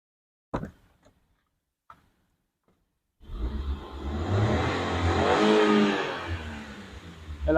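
A Maruti Alto 800 VXi petrol car sits still with a few faint clicks, then its engine is revved with the accelerator, rising into a loud, sustained close roar.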